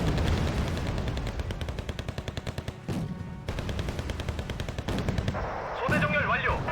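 Rapid gunfire and artillery blasts in the Wargame: Red Dragon video game, dense bursts of automatic fire with heavy thuds, loud and continuous, with brief pauses and radio chatter near the end.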